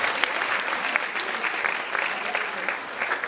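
An audience at a music school event in a hall applauds steadily, dense clapping sustained throughout, loud and close, with a voice faintly over the clapping.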